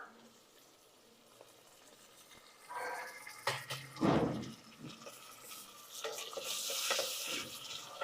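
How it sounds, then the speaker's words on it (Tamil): Onions and tomatoes sauté in a pan while being stirred for a rice and dal dish, starting quiet and then rising into a moderate sizzle with scraping stirs from the middle onward. "தக்காளி வெங்காயம் இன்னும் கொஞ்சம் நேரம் வதங்கட்டும்"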